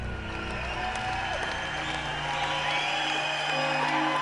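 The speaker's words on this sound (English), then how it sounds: "The crowd just roars." A large crowd roars and cheers for George Washington, a dense, continuous swell of voices and applause that grows slightly louder toward the end.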